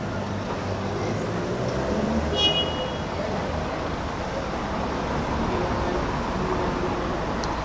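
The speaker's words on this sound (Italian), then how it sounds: "Qui l'aperitivo è rumoroso perché al centro c'è sempre tanto casino con le macchine." Busy city-centre street traffic heard from an outdoor aperitivo spot, a continuous low rumble of passing cars with a brief higher tone partway through, steady and moderately loud.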